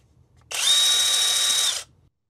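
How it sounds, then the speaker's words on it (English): A battery-powered impact driver bought from Amazon whirs at full speed for just over a second, a loud, steady, high-pitched motor whine with a sharp start and stop, under faint background murmur. "So this is just an Amazon battery impact."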